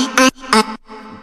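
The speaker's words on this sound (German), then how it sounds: "Und hier unten habe ich dann auch meine Drop-Melodie schon eingebaut." Drop melody built in FL Studio for a bootleg remix: two loud bright synth stabs with rich harmonics, followed by a softer sustained tone, all alone with no talk.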